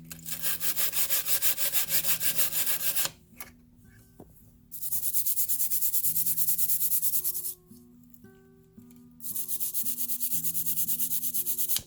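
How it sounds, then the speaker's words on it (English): Bare copper on a resin electroforming piece is scrubbed clean by hand in fast, even back-and-forth strokes, heard close up in three loud bursts separated by brief quiet pauses, with no talking. "Scrub, scrub, scrub."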